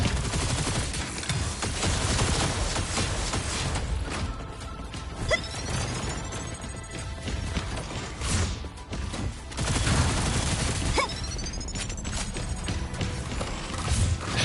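Rapid bursts of video-game gunfire in Terminul Brigade rattle almost continuously, mixed with whooshing effects and crashes, loud and busy with no clear speech.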